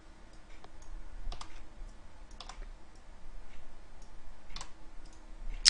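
Typing on a computer keyboard. A few soft key clicks come in small scattered clusters against a quiet room.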